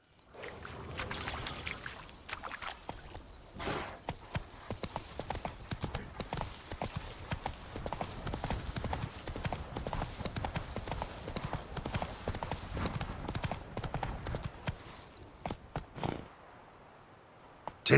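Hooves of the horse Roach clip-clop in a quick, steady galloping rhythm in The Witcher 3, loud and close throughout before easing off near the end.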